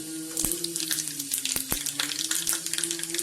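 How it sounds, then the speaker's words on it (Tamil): Mustard seeds and cumin crackle and sizzle in hot oil, with sharp popping bursts scattered over a steady frying hiss, close and alone without talk. "எண்ணெய் காஞ்சிருச்சு. கொஞ்சம் கடுகு, கொஞ்சம் சீரகம்"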